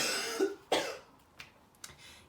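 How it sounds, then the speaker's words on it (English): A woman coughs nearby, two sharp coughs followed by a couple of fainter throat-clearing bursts, in an otherwise quiet room. "I need to cough."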